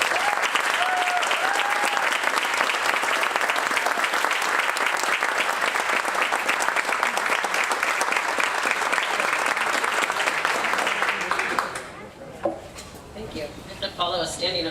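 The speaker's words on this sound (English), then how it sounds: "Follow a standing ovation, so that's hard." Standing ovation at a Hall of Fame induction ceremony: dense, sustained applause from a large crowd fills the room for about twelve seconds, then breaks off abruptly into a few scattered claps and quiet room noise.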